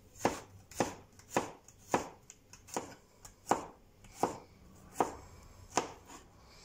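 Two garlic cloves chopped with a knife on a board in a home kitchen: about a dozen crisp, evenly spaced chops at a steady unhurried rhythm, close and clear with no talking.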